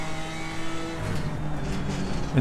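A BMW race car engine in Assetto Corsa Competizione holds a steady droning pitch through a fourth gear corner, then surges and roughens toward the end. The engine sounds close and fairly loud, with no voices over it.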